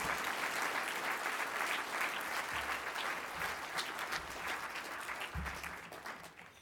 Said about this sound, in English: A big round of applause and all the way up.